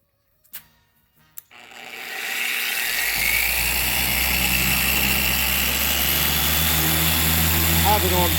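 An Avid Power 6-inch dual action polisher starts after a couple of sharp clicks and settles into a loud, steady, whining motor hum that runs continuously to the end.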